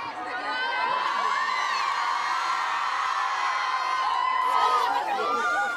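A packed crowd of fans at a Stromae autograph signing in a shopping centre cheers, shouts and whoops continuously, a loud dense roar of voices with high-pitched screams rising toward the end.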